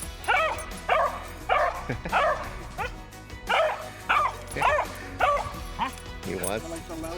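A young dog named Tucker barks and yips in short, repeated bursts, close and loud, with occasional whimpering notes between them; people talk softly underneath.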